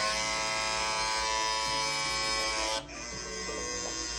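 Andis electric hair clippers buzz steadily up close with a harsh, rough motor whine, dipping briefly in pitch before continuing.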